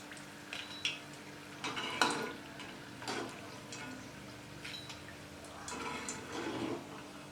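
Fried chukkappam, a crisp browned Kerala snack, being scooped out of a pan of hot oil, with scattered metallic scrapes and clinks of a utensil against the pan over a soft frying hiss, and no talking.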